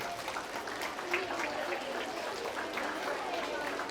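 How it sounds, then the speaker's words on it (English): Kindergarten and primary schoolchildren clap together at a school assembly, a steady dense patter of small hands filling the room for several seconds with a faint murmur of young voices underneath. "Let's clap for them."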